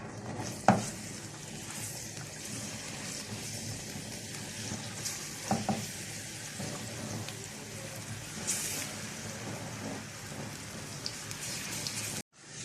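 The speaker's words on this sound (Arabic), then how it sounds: "هرسق الكزبره مع الثوم. وهنقلب كده" Dried coriander and garlic fry in oil with a soft, even crackle, like light rain. A few scraping stirs come through near the start and middle, and a faint murmur of voice sits in the background.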